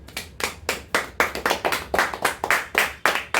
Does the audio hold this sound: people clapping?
yes